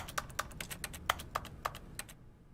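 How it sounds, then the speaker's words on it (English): Keyboard-like clicks from The Stanley Parable game sound in a quick, irregular run of sharp taps, several louder than the rest, close and clear over faint background hiss before tapering off. "You know when I click, it makes like a keyboard sound."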